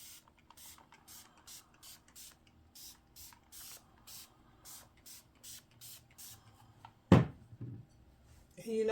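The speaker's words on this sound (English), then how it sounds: "I just have a spray bottle. I have some Dawn detergent in there." A spray bottle filled with water and Dawn dish detergent is squeezed repeatedly, giving a steady train of about fifteen soft, quiet hissing spritzes, followed by a louder clatter near the end.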